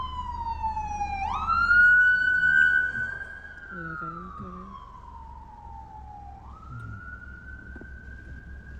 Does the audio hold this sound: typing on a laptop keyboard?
no